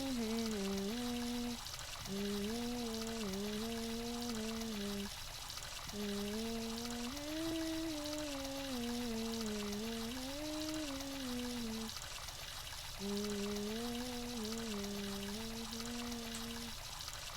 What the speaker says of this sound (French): Moi, je vais à la douche.